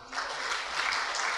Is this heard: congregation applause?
yes